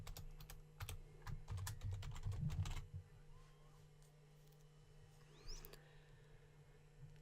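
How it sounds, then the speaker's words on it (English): Quick, irregular clatter of computer keyboard keys being pressed, close and quiet, stopping after about three seconds and leaving a faint hum with a few soft clicks. "All we need to do is hit the backspace key and type whatever we wish."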